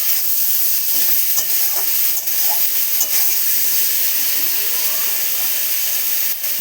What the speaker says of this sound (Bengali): মাঝে মাঝে একটু নাড়াচাড়া করে দেবো, খুলে একটু নাড়াচাড়া করে দেবো, কারণ লেগে যেতে পারে কড়া।